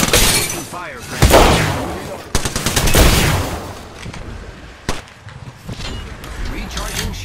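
Gunfire in Apex Legends cracks in sharp, loud bursts and rapid volleys amid shattering impacts, with a player's voice talking over the fighting.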